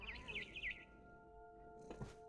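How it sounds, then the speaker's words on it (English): A barn swallow chirps in the game What Remains of Edith Finch, a few quick rising tweets at moderate volume, then a soft ambient hum with a brief rustle. "Then I heard chirping outside my window."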